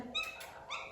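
A small female dog whimpers briefly indoors: a few faint, high, thin whines within under a second, heard alone.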